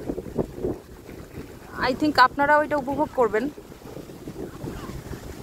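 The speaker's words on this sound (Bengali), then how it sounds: "শুনতেই পাচ্ছেন নদীর কি গর্জন আর বাতাসের কি গর্জন, মিলেমিশে একদম একাকার।" Strong wind roars across an open river, blowing steadily into the microphone with the rush of choppy water beneath, while someone speaks briefly over it near the middle.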